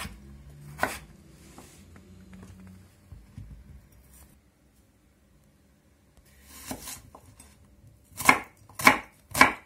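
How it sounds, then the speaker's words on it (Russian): A knife cuts potatoes into sticks on a board, producing a few soft scattered cuts early on, then three loud, sharp chops in quick succession at the end. "Картофель я порежу брусочками."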